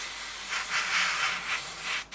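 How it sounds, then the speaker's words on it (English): Airbrush spraying paint onto the wheel well of a Tamiya 1/32 F-16CJ model, giving a close hiss in short repeated bursts that swell and fade before stopping. "again I'm going to spray the whole lot"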